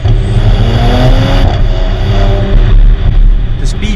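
A Porsche Panamera 4S V6 on studded winter tires accelerating hard in first gear, a loud, close engine roar with rising pitch that builds steadily before a brief shift-like dip near the end.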